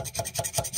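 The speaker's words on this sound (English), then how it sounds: "I'm just using the knife flat and just rubbing it up against" A knife held flat scrapes silicone off a Pfister Shelton kitchen faucet part in quick, rhythmic rasping strokes, close and brief.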